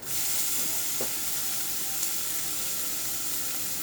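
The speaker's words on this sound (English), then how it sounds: "so let's put this portion of the onions in there." Onions hit a hot pan for Latin-style stuffed shells and sizzle loudly, a dense, even hiss that stays close and constant throughout, with a faint clink or two and no voices.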